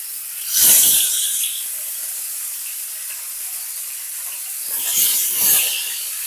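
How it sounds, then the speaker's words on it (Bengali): Gurjali fish frying in hot mustard oil in a wok, with two loud bursts of hissing sizzle, one early and one near the end, and a softer steady crackle between them. "এবার মাছগুলোকে আমি ভেজে নেব।"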